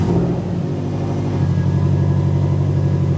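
A 2017 Subaru STI engine idles steadily after a cold start, a loud, even low rumble with a faint high whine, close by and with no talking.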